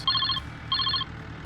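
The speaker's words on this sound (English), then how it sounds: "Oh, hey, my phone's ringing." A phone rings in Farming Simulator 22 with two short electronic trill bursts in a row, clear and close over a low engine hum.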